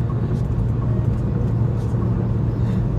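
Steady low engine rumble of a car being driven, a continuous road drone heard from inside the vehicle with no clear talk over it.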